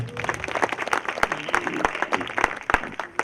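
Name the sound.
church congregation applauding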